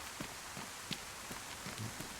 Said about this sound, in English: Bit of a trek in the rain.